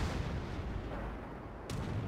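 Battleship gun volley in World of Warships, a heavy rumbling boom of artillery fire followed by a second sharp blast near the end, loud and close with no talking.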